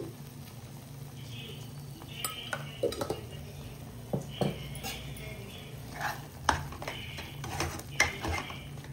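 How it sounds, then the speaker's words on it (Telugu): A spoon stirs ginger garlic paste with turmeric and salt in a pan while making paneer butter masala, giving intermittent metallic scrapes and clinks against a low steady background hum. "అంతా బాగా కలిసేలాగా కలుపుకోవాలి."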